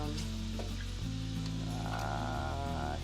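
Chicken sizzles steadily in a hot frying pan as it is flipped halfway through cooking, a close, continuous crackle with a low steady hum underneath and no voices.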